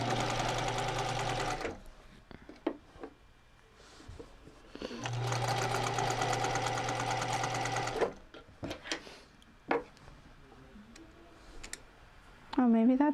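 A sewing machine stitches a twice turned hem enclosing a seam, running in two long close bursts separated by short clicks and handling noises, with a voice heard faintly near the end.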